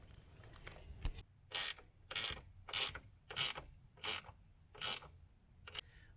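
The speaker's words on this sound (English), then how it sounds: "So we're bolting the first bracket on." A hand ratchet bolts an Aluminess ladder bracket onto a van, with seven or eight sharp bursts of clicking pawl strokes, each about a third of a second, separated by brief pauses. The ratchet is close, quiet and heard alone.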